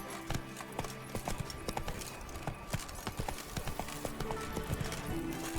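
Roach the horse trotting in The Witcher 3: Wild Hunt, a close, continuous clip-clop of hooves in an even rhythm, with no voices over it.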